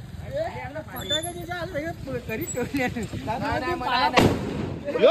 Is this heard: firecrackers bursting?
yes